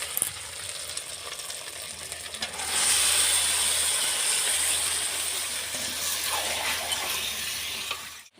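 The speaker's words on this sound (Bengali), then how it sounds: "এবার তেলের উপরে মাংসগুলো দিয়ে দেবো" Chicken meat dropped into hot oil with ginger-garlic paste, a loud crackling sizzle that surges partway through and holds steady near the pan, with faint scraping of stirring.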